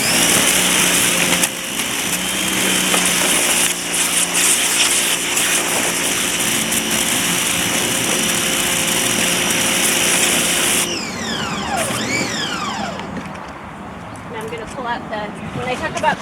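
A power washer runs at full power in a loud, continuous, steady roar that drops in level near the end, with shifting tones as the spray moves.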